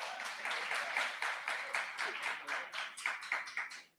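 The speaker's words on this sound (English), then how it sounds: "We need to, yes, round of applause, yes." Small audience round of applause at a motivational talk, distinct rhythmic individual claps, fairly quiet and close, tapering off at the end.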